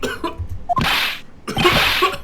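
Two raspy coughs from the video game Phoenix Wright: Ace Attorney – Trials and Tribulations, each a sharp burst after a short vocal lead-in, close and clear with a brief pause between them.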